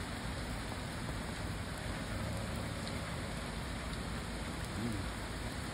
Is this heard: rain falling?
yes